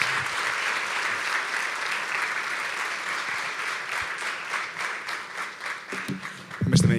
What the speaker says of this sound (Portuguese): vos pedir aqui uma salva de palmas